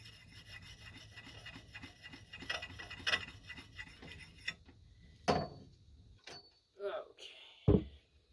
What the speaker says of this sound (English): I like to finish it off with a nice DMT diamond. And I'm just touching the micro bevel.